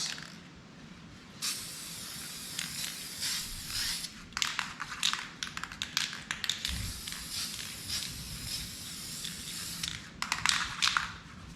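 Spray can laying down a heavier second coat of paint on ATV A-arm guards for a Yamaha Raptor 700R, heard as a close, continuous hiss with repeated short sputtering bursts over about eleven seconds.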